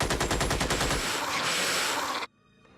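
Sustained automatic gunfire in the alien-combat strategy game Xenonauts, a dense loud burst of rapid rounds lasting about two seconds before cutting off abruptly into quiet.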